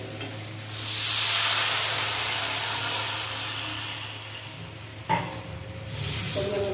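Water goes into a hot pan of fried drumstick curry, setting off a loud, broad sizzling hiss that swells and then slowly fades, followed by a sharp clink and a light stirring scrape.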